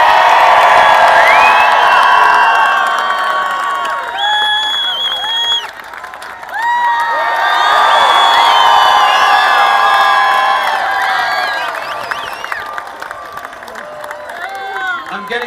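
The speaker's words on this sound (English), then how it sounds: "I'm getting the sense these guys like the applause." Loud crowd applause and cheering with whoops as Washington Capitals players, Stanley Cup winners, take the stage, sustained throughout with shouts rising and falling and a brief lull midway.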